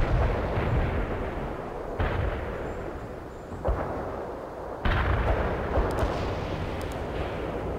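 Artillery fire support from the video game World in Conflict: heavy, rumbling booms and blasts land repeatedly, with sharp new impacts at intervals over a continuous roar of distant explosions.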